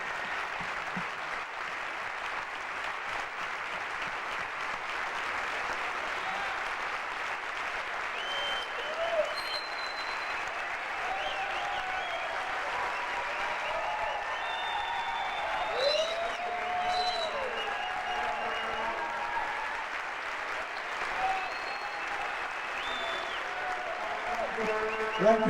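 A warm, sustained round of applause from the audience at a California Church of God of Prophecy state convention, steady crowd clapping filling the hall for the whole stretch, with faint voices and whoops scattered beneath.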